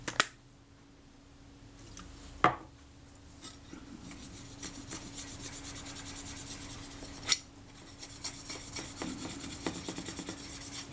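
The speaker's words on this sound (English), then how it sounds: "I'll clean all this down with a bit of naphtha just to make sure it's free from all grease and dirt" Faint, quiet rubbing and wiping of a cloth on the top glass of a Kodak Retina IIa camera during cleaning with naphtha, with two sharp clicks and soft scratchy strokes continuing throughout.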